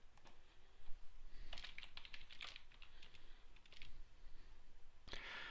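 Typing on a computer keyboard gives quiet, irregular clusters of key clicks and taps close by, with short pauses between bursts and one sharper clack near the end.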